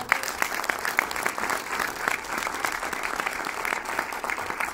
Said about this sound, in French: je crois qu'on peut les applaudir aussi.